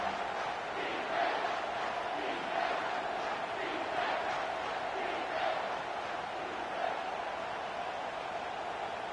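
Stadium crowd at a football game roars in waves, a dense chanting wall of voices rising and falling in a steady rhythm, loud and continuous throughout.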